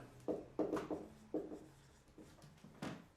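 Pen or pencil writing notes by hand on paper while working out a logic game, several short scratchy strokes in quick bursts, close and fairly quiet, with a low voice faintly underneath.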